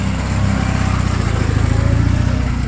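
A vintage motorcycle at a historic motorcycle rally in Pisz, Poland, runs with a steady, rapid, throbbing engine putter close by, holding a constant idle-like rhythm without a clear rise.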